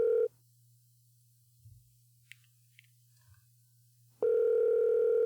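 Outgoing call on a phone line, two loud ringback tones about four seconds apart, the first cutting off and the second starting, with a faint low line hum and small clicks in the quiet gap.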